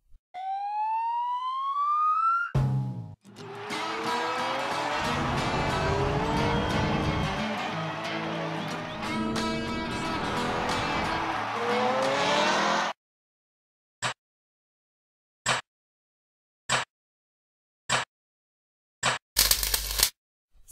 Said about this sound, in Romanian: Mașină de curse.